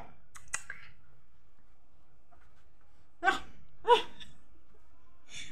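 A dog gives two short, sharp yaps close by in a quiet room, with a few faint clicks before them and a soft sound at the end.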